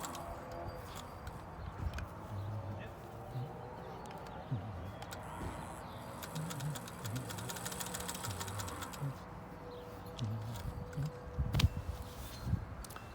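A Singer 201 sewing machine runs outdoors, its motor humming with a rapid, even stitching rattle that speeds up through the middle, accompanied by scattered knocks and handling noises close by.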